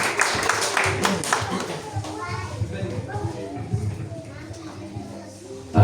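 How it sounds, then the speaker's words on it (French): A church congregation at a Sunday service claps at first, brief dense clapping that quickly thins out, followed by children's voices and chatter in the room with scattered handling noises. "On va applaudir le Seigneur."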